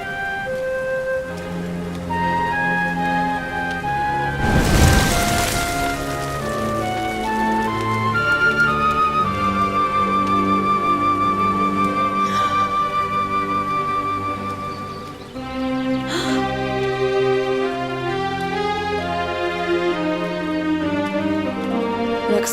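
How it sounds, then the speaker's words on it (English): Steady rain in the Dragon Quest XI video game, a soft continuous patter under tonal game music, with one brief louder swell near the start. "Looks like the rain's dying down."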